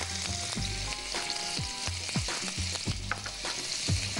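Garlic and ginger paste sizzles and spatters in hot oil in a pan, a steady loud frying hiss with intermittent crackles and stirring clinks, no voices.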